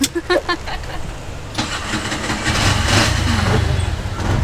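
A stalled car's engine cranks and catches again, then settles into a steady idle close by, the idle known to run slightly low.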